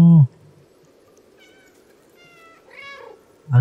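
Cat meows from the video game Stray: a few soft, drawn-out meows in the middle, heard alone between short bursts of speech at the start and end.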